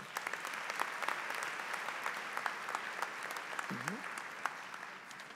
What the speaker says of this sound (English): One more round of applause for Danielle.